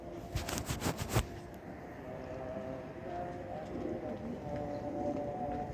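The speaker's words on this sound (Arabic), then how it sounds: "في معنا طير يا اخوان" Pigeon coos against steady background noise, with a short burst of sharp clicks early on and faint voices murmuring.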